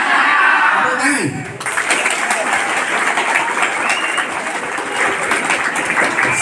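Students applaud at a Monday school flag ceremony with a sub-district head presiding, a steady wash of outdoor clapping following a brief spoken voice at the start.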